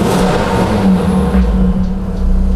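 Audi RS3 engine in RS mode, a loud, close, steady deep rumble and roar that stays strong and even throughout, with no talking.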